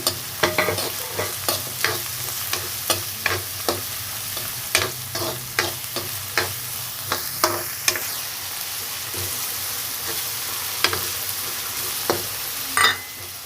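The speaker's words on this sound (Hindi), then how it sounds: "इनको भी इसमें डाल देंगे। इनको फ्राई करेंगे लहसुन के साथ में।" Steady sizzling of onions and garlic frying in oil, broken by regular scrapes and clacks of a spoon stirring the pan, close and continuous.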